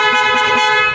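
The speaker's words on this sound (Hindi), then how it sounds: "हाँ जी चलाओ जी, ज़रा चला के चेक करवाओ हॉर्न।" A car horn being fitted and tested on a vehicle at a workshop sounds as one steady, loud, continuous blare lasting the full second, with no talk over it.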